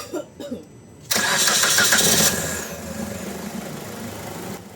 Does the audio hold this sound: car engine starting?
yes